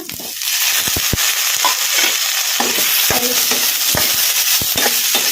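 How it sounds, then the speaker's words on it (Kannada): Chopped tomato frying in a pan with onion and green chilli over a medium flame, giving a steady close sizzle broken by scraping stirs and utensil knocks, with no talking. "ಟೊಮಾಟೊ ಮೆತ್ತಗಾಗೋವರೆಗೂ ಫ್ರೈ ಮಾಡ್ಕೊಂಬಿಡೋಣ ಮೀಡಿಯಮ್ ಫ್ಲೇಮಲ್ಲಿ"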